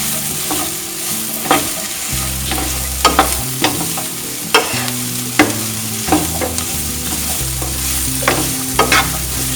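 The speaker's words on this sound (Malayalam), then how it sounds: "ക്യാപ്സിക്കം കൂടെ ഇട്ട് നമുക്ക് ഒന്ന് മിക്സ് ചെയ്യാം" Capsicum stir-fried in a pan for Kerala-style dragon chicken: a soft continuous sizzle under repeated sharp scrapes and clinks of a spoon stirring, close and clear with no voices.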